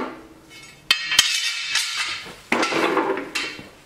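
Metal lawn mower blades are handled and fitted, giving sharp clinks and clanks with scraping and rattling in between, close by and irregular.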